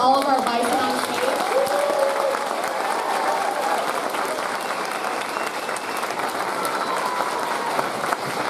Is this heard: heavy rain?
no